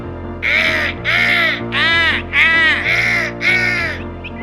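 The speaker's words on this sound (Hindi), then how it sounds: "लेकिन वहां सारे कौवों ने काव काव करना शुरू किया।" Crows cawing: six loud, harsh caws in an even, repeating rhythm, close by and clear.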